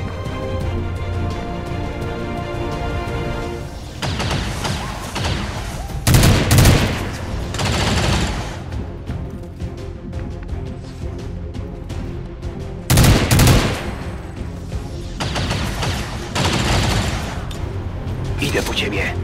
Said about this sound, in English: There's heavy fire in this zone.